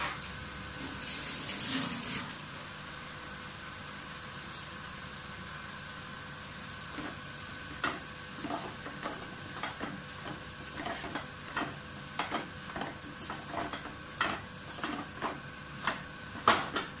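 Fish mixture for fish cutlets cooking in a pan, with a quiet steady sizzle under irregular scraping and stirring taps that grow more frequent toward the end, close and moderately soft.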